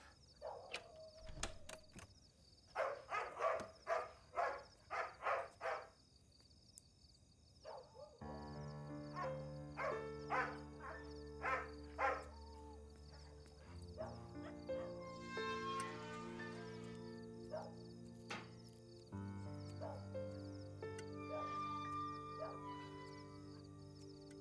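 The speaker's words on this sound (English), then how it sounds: "Dog is barking here." A dog barks in a quick run of sharp yips near the start, then quieter whimpering and occasional yaps continue under a steady musical score and background sounds in an indoor scene.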